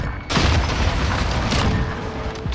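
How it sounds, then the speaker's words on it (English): Semtex grenade going off in a first-person shooter game, a sudden loud boom that rolls into a long, dense rumble of crackling debris and gunfire noise lasting a couple of seconds. "A Semtex almost killed me."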